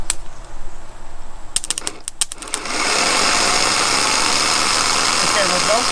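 A car starter connected to a battery by jumper cables cranks the engine in a quick run of rapid, chattering clicks before the engine catches and settles into a loud, steady running drone.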